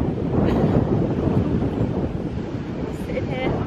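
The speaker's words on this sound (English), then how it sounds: "A bit windy." Steady, heavy wind buffeting the microphone throughout, a dense low roar that never lets up, with faint higher rustles drifting in and out.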